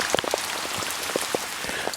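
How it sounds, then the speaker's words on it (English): Rain falls outdoors during a fishing trip, a soft constant patter with scattered louder drips and taps hitting nearby surfaces, heard alone without any talking. "The rain is falling. You may hear it in the background."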